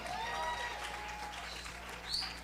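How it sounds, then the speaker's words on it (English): Soft, distant audience applause at a concert forms a diffuse wash of clapping, with a few whistles or cheers poking through near the end. "let's give him a nice round of applause,"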